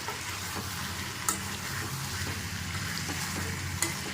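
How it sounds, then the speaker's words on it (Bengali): Chicken sautéing in a pan for a Bengali home-style chicken curry, a soft continuous sizzle with scraping stirs and a couple of sharp spoon clicks, fairly quiet and close. "মাংসটি প্রায় কষানো হয়ে এসেছে।"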